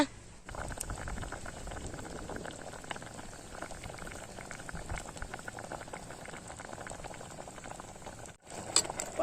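Water with fish in it bubbles at a steady rolling boil in a clay pot, a dense continuous simmering and popping that stays close and even throughout.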